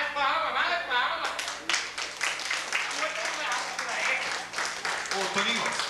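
Audience clapping at a live show, a steady mass of claps running the whole time with voices and speech-like sounds mixed over it.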